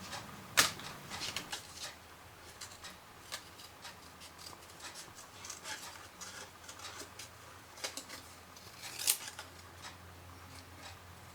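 Scissors snip around paper roses cut for a decoupage greeting card. Close, crisp clicks and cuts come in an uneven series, with a couple of sharper snips standing out over a quiet room.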